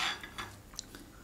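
A serving spoon clinks lightly against dishes a few times in a quick, faint series of short metallic taps.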